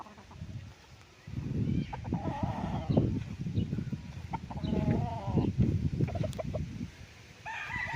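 Several chickens cluck and squawk nearby in irregular bursts on a farm in Nagcarlan, Laguna, over a low background rumble, with a brief crow-like call among them.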